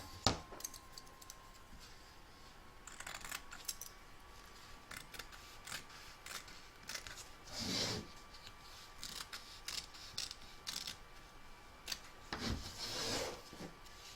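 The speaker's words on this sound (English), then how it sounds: "You're now going to trim up the excess fabric from both the back and front" Scissors trimming excess fabric around an in-the-hoop embroidery piece in a hoop, quiet snipping and rubbing strokes scattered irregularly with a couple of louder cuts, close and alone.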